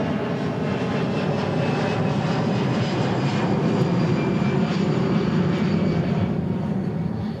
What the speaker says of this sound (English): A319 taking off?